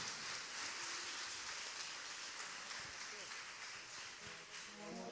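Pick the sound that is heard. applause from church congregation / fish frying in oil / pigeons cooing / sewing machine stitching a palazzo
applause from church congregation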